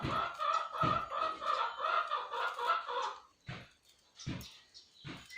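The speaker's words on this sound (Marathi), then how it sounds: "तुझ्या कोंबड्या बघ कशा हे करतात" Chickens cluck and squawk in a busy chorus, followed by a few sharper separate calls with brief pauses between.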